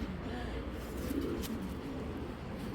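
A pair of old-breed Khaki pigeons coo softly and low at close range, their murmuring calls sitting over a steady background hum.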